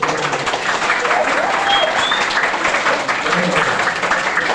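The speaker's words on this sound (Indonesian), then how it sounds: "Tepuk tangan untuk sampean" Applause from an audience at an Isra' Mi'raj gathering at a special-needs school in Rembang, a loud, sustained wash of clapping that carries evenly from start to finish.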